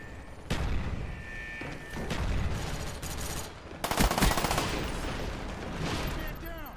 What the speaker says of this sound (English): Oh, I don't even know where I'm getting shot at.